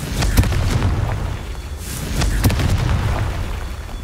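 Repeated Confringo fire spell blasts in the Hogwarts Legacy video game, a dense rumbling barrage with sharp cracks and deep booms overlapping in quick succession, loud and close throughout.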